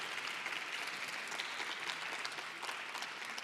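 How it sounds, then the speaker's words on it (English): Applause from the audience at a patient organisation networking day, a steady wash of clapping at a moderate distance with no voices over it. "applause to them."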